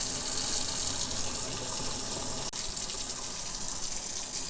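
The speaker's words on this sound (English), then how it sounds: "So I'm going to turn the faucet on, and then we'll shut the valve off." Water gushes steadily from a faucet in a cabin fitted with a whole-home smart water monitor, a loud, even rush with a brief dip midway and no talking.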